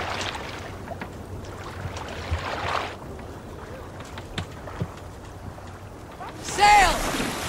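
A Viking longship under sail in Assassin's Creed Valhalla, with wind and water washing steadily around the hull, a brief louder gust near the end, and faint voices mixed in.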